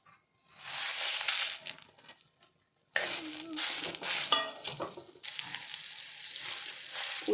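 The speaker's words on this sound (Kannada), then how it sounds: "ಉದ್ದಿನ ಬೇಳೆ ಗೋಲ್ಡನ್ ಕಲರ್ ಬರುವವರೆಗೆ ಹುರ್ಕೊಳ್ಬೋದು." Urad dal, fenugreek, tamarind and grated coconut for a Karnataka-style pundi gasi masala are stirred and dry-roasted in a pan, giving a steady scraping, rustling crackle with a brief pause partway through and no talking.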